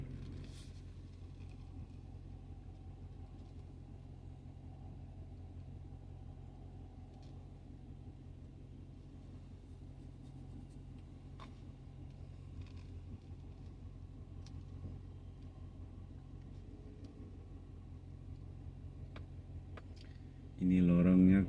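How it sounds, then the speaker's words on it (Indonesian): A wide car creeps slowly through a narrow alley, its low engine rumble steady and muffled from inside the cabin, ending with a sudden louder thump. "ini lorongnya sempit sekali karena mobil saya ini lebar ya"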